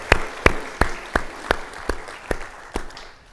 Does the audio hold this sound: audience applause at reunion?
yes